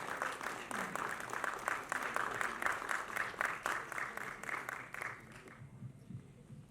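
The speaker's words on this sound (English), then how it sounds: "A big round of applause." Applause rises at an awards ceremony, a crowd clapping in a lively, uneven rhythm for about five seconds before fading, followed by faint murmuring voices.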